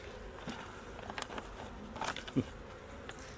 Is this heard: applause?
no